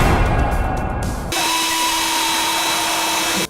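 Power drill whirring steadily at close range, a rough grinding burst giving way to a sustained high motor whine that runs loud and even for several seconds before cutting off abruptly.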